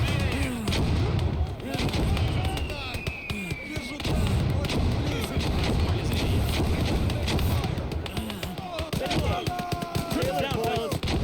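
Mortar and gunfire rounds thump and crack repeatedly in an Army Men video game battle, a dense, loud barrage of overlapping bursts continuing the whole time.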